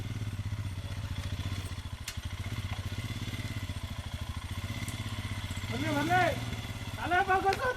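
A motorcycle engine drumming steadily with a rapid, close idle-like pulse on a forest road near Agumbe, growing louder toward the end as it approaches, while people talk over it.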